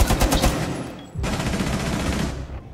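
Gunfire in Rainbow Six Siege, a loud stuttering burst of automatic shots, a brief gap, then a denser sustained volley of rapid fire filling the rest of the moment.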